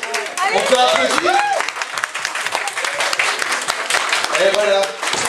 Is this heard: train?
no